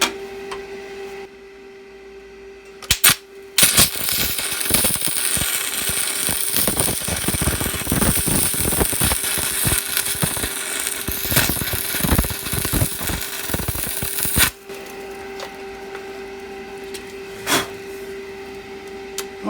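Welding on a cracked steering box part from a Kingcat ride-on lawnmower, a steady loud crackling buzz running for about twelve seconds, with short arc bursts before and after and no talking.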